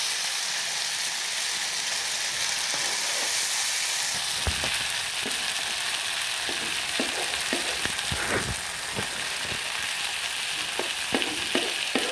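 Chicken and khichuri fry in a pan, a steady loud sizzle running throughout with scattered stirring clicks and scrapes in the second half; no one speaks.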